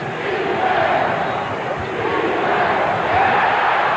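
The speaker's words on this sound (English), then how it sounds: "And the crowd into it, encouraging the Laker defense." A basketball arena crowd at a 1992 NBA playoff game between the Los Angeles Lakers and Portland Trail Blazers roars steadily in encouragement of the Lakers defense, a loud, continuous swell of cheering with a commentator talking over it.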